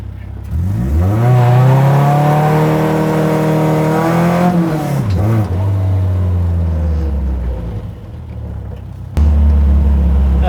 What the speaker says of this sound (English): Boys, we've built a race car.